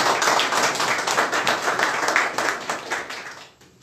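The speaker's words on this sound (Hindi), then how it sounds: "एक बार फिर से पास्टर के लिए ताली देंगे" A church congregation claps for the pastor in a dense, close round of hand claps that holds steady and then fades out near the end.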